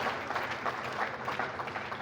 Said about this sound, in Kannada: ಜೋರ ಚಪ್ಪಾಳೆ ಮೂಲಕ ಅವರ ಕರ್ತವ್ಯವನ್ನು ನಾವೆಲ್ಲರೂ ಸ್ಮರಿಸಬೇಕಾಗಿದೆ